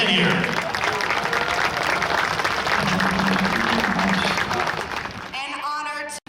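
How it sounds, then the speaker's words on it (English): Airshow crowd applauding the crew of a B-25 Mitchell bomber, broad sustained clapping outdoors under an amplified announcer's voice, fading off at the end. "Let's give them a huge round of applause."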